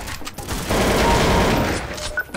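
Rapid gunfire from the video game Counter-Strike: Source, a dense burst of shots lasting over a second between quieter moments, loud and close in a deathmatch.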